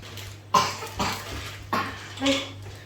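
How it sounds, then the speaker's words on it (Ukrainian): Three or four harsh coughs close to the mic, spaced irregularly with short pauses, over a low steady hum. "Всі в нас вдома кашляють"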